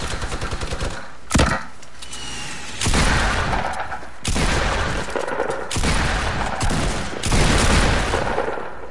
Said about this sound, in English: They shooting at you?